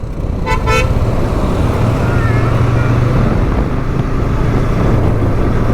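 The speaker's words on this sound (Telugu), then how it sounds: "వెనుక కార్ వస్తుంది" On a highway, a car approaching from behind gives two quick horn toots over a steady loud road and engine roar from a moving vehicle.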